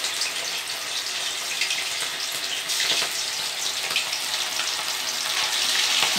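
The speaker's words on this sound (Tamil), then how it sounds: "இப்போ நான் வந்து பிரானை போடுறேன் பாருங்கள்." Prawns drop into hot oil and fry with a loud, continuous crackling sizzle that swells slightly as they cook, close up and without talk.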